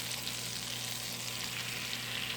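An egg frying in butter in a pan, heard as a steady, close, even sizzle and crackle that holds at the same level throughout, with no talking.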